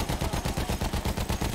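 Rapid automatic gunfire from a video game, a steady stream of sharp bursts repeating quickly and evenly with no pauses.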